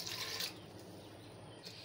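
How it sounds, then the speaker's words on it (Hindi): Water splashes briefly into a pot of arhar dal with whole spices, a short, fairly loud pour that fades into quiet kitchen background. "दाल में हम पानी को डाल लेते हैं।"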